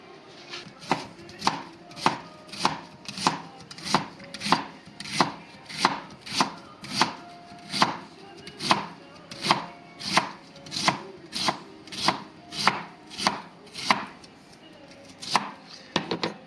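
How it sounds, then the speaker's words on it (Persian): Onions chopped with a knife on a board, a steady series of crisp, evenly spaced chops, about one or two per second, close and clear with no voices. "خب ابتدا میریم برای خرد کردن پیازا"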